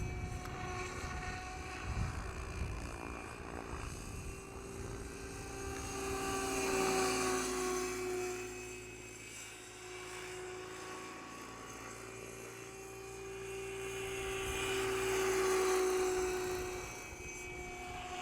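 An Align T-Rex 760X RC helicopter flies in gusty wind, its steady rotor and motor whine swelling and fading twice as it passes nearer and farther, with no talking.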